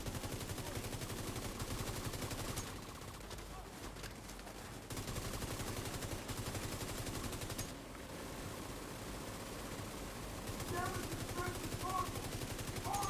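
Turret gunfire in a video game, sustained rapid automatic bursts with brief pauses, faint and distant in the mix, under occasional speech.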